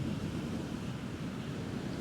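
Rough sea waves break on the shore at Skegness during a storm, a constant low rushing surf mixed with gusty wind buffeting the microphone, with no voices.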